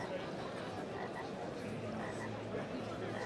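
Frog croaks from a children's educational video game play faintly over a busy conference hall hum, with someone talking over the scene.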